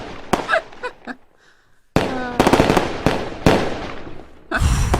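Fireworks sound effect on a radio show, loud sharp bangs and crackling bursts in quick succession with a rocket whistle, a short lull, then another heavy volley.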